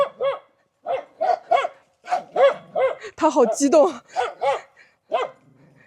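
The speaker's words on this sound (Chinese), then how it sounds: "有狗子。" A dog at a village home barks in a rapid, loud series of sharp barks close by, with a few yips, and a person speaks briefly among them.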